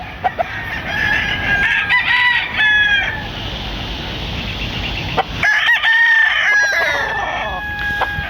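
A bullstag rooster crows twice, loud and close, each crow a long strained call, with a few clucks and a quieter stretch between.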